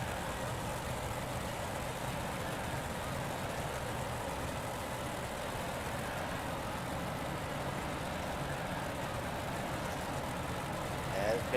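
Race car engines in an iRacing sim race with 358 modified cars at Weedsport speedway, a steady, continuous drone of several engines at moderate level, with a commentator talking over them.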